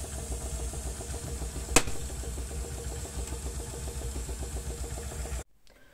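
A Mercedes R44SM mechanical calculating machine running a multiplication gives a steady, dense whir of rapid rhythmic clicking, with one sharp clack near the start of the second half, then cuts off abruptly just before the end.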